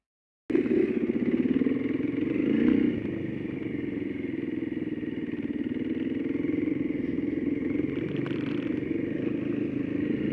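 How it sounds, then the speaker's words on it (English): A KTM 350 and a KTM 500 dirt bike ride along a trail, a steady close engine drone that surges briefly early on, then settles into an even mid-pitched hum. "riding the KTM 350, my friend Marcel, on this KTM 500"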